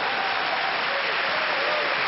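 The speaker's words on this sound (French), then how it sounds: "Avec les applaudissements de Todd Martin" Steady applause from a tennis crowd at a 1994 Davis Cup semifinal, Todd Martin among those clapping, dense and continuous for the whole stretch with a commentator's voice faintly underneath.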